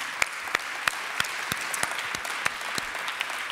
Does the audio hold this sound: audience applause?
yes